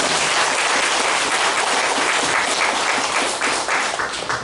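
A church congregation claps together in sustained, dense applause, loud and steady throughout with no voices standing out.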